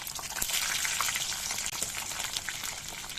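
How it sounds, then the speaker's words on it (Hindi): Sliced kachri (wild cucumber) sizzle steadily in hot oil tempered with cumin, mustard seeds, fennel and nigella, a continuous close frying hiss with faint stirring ticks and no talking. "इन काचरियों को तेल के अंदर इसी तरह से फ्राई करना, थोड़ी देर उलट पलट करते ही रहना है"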